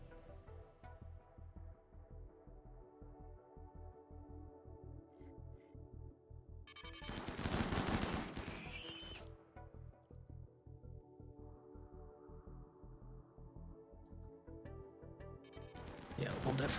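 Defensive turrets in RimWorld fire a volley at an approaching slow centipede mechanoid, a loud burst of rapid shots standing out over steady game music, with a second burst starting at the end.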